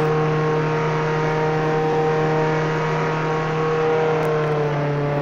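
Steady engine drone of a car driving in the Roblox game Jailbreak, a constant hum with a low tone that holds evenly throughout, with no talking.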